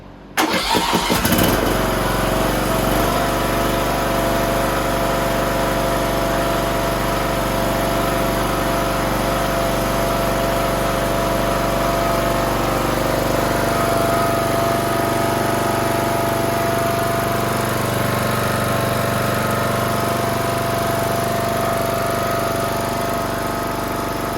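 A Toro Z420 TimeCutter zero-turn mower with a swapped-in motor cranks briefly, then fires and settles into a steady, loud, close-up running drone that continues to the end.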